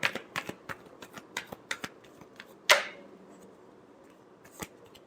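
Tarot cards shuffled by hand during a reading: a quick run of soft, dry riffling clicks, one louder flurry midway, then a few scattered taps, close and with no voices.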